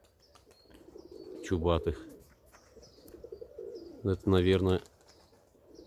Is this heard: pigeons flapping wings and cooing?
yes